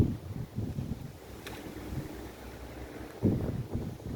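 Gusts of wind buffet the microphone in low rumbling bursts, rising and falling, with a faint buzzing in the background.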